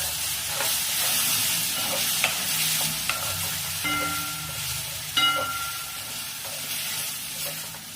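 A ground paste of one large tomato and about five green chilies fries and is stirred in a pan for a prawn and pointed-gourd curry, with steady loud sizzling, scattered spoon scrapes, and no talking.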